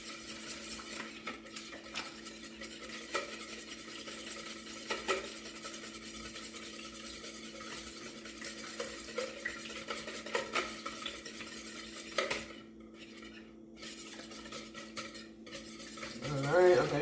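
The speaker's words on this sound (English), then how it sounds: "so now I'm gonna stir that up" Food being stirred in a pot for a Thanksgiving meal, a steady scraping and clinking of a utensil against cookware with a faint sizzle underneath, continuous at moderate level with a brief louder clatter at the end.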